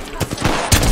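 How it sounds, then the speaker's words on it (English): Rapid bursts of gunfire aimed at a player in an online shooter game, several loud cracks in quick succession ending in a heavier blast, with a voice talking at the same time. "Hey, someone shooting me"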